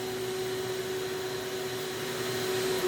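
Steady, close whine of a running vacuum hose feeding a CNC vacuum hold-down table in a woodworking shop, a continuous drone with a fixed tonal hum and no talking.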